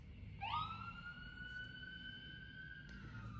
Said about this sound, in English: On cue comes the sirens